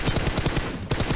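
Rapid automatic gunfire in a shooter video game, a fast string of sharp bursts with a brief pause before another shot, loud and close with no talking.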